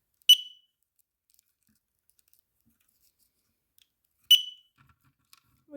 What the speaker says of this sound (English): it will be normal to hear beeping when it connects for the first time